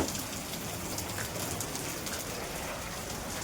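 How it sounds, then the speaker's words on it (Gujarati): Steady rain pattering down outdoors while a vehicle is being loaded, a dense continuous hiss of drops on surfaces, close and even throughout with no speech. "જોઈ લો વરસાદ ચાલુ है."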